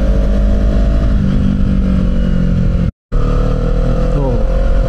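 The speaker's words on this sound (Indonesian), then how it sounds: "Nah ini di belakang ada motor nih." A motorcycle follows behind on a mountain road near Citorek, Lebak, Banten, its engine droning loud and continuous under a rider's talk, with a brief cut of silence midway and a rising rev toward the end.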